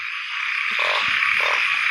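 Narrow-mouthed frogs croaking in heavy rain in a forest at night, a dense steady chorus of overlapping calls over a constant hiss of rainfall, with a low rumble that fades after the opening moments.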